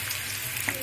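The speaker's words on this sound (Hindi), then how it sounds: "उसके बाद हम ऐड करेंगे बारीक कांदा, इसे पिंक होने तक अच्छे से पका लेंगे।" Finely chopped onion frying in hot oil, a steady close sizzle and crackle for under a second with no voices.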